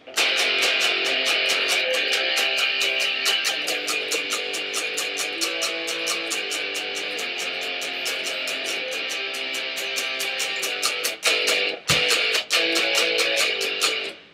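Strummed guitar chords in a steady rhythmic pattern, bright and close, with a brief pause near the end before strumming resumes.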